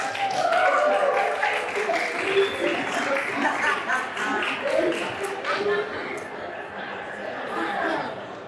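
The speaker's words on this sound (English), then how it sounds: "Give applause." A concert audience claps and cheers as the first track of a live show starts, a dense, steady wash of applause mixed with crowd chatter that holds loud throughout.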